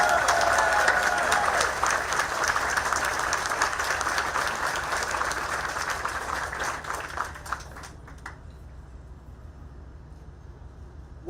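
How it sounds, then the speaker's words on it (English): Audience applause rings out for the city council at an Amtrak groundbreaking ceremony, steady and full for about seven seconds before fading away into quiet. "let's give them a big round of applause"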